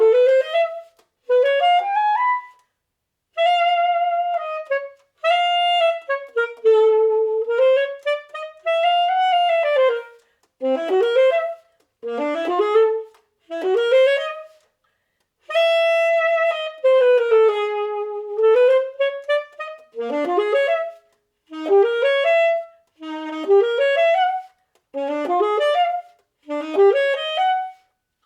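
A saxophone, played by the principal saxophonist of the United States Air Force Concert Band, works through a practice passage on a first try, with phrases of sliding, bending notes broken by pauses, close and unaccompanied.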